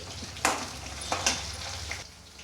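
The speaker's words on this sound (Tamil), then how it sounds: "வெங்காயம் வதங்கிட்டுருக்கு" Onions sautéing in a pan for a tamarind-style curry, a low sizzle broken by a few sharp spatula scrapes and stirs, close and fairly quiet, with no voices.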